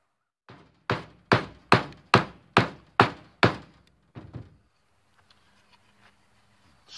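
A wooden 2x4 is split to make a bow drill spindle. About eight sharp, evenly spaced thunks of batoning ring out close by, followed by a couple of softer knocks and quiet handling sounds.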